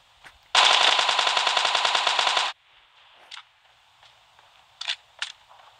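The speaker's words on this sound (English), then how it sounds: "Tommy gun." A Tommy gun fires in PUBG Mobile, one sustained rapid burst of about two seconds, loud and close, followed by a few faint scattered clicks and light taps in a quiet background.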